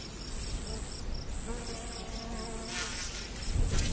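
Winged harvester ants swarming from their colony in northern Arizona, a continuous close buzzing drone with wingbeat whines passing by and a fainter insect chorus underneath.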